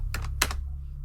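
Computer keyboard typing into a search bar: two quick bursts of keystrokes, close and moderately loud, over a steady low hum, followed by quiet.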